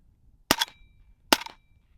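Two sharp gunshots from a PSA 300 Blackout Krink rifle fired into a berm at home, spaced under a second apart, each a loud crack with a short ringing tail, with no talking.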